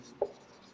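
Chalk writing on a classroom board during a Hindi-language science lesson on carbon compounds: one short, faint scratch of a stroke, then quiet room tone.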